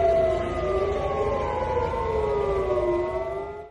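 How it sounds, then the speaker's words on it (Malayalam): An air raid warning siren wails across Tel Aviv after a missile attack launched from Yemen, a loud, sustained rising and falling tone that slowly drops in pitch and fades at the very end. "മിസൈൽ ആക്രമണത്തെ തുടർന്ന് തലസ്ഥാനമായ തെൽ അവിവിൽ മുന്നറിയിപ്പ് സൈറൺ മുഴങ്ങി."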